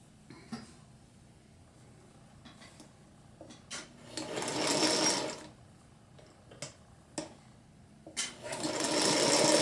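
A sewing machine stitches through a quilted book, running in several short bursts with brief pauses and back-tacks between them, fairly close and clear with no talk.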